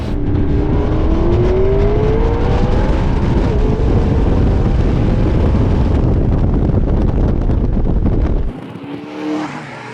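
McLaren MP4-12C supercar with a 3.8-liter twin-turbo V8, heard as a loud, sustained engine roar with rising revs and strong wind buffeting, cutting off abruptly near the end.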